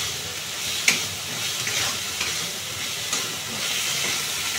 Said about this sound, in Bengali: মশলাগুলো এবার মিশিয়ে নেব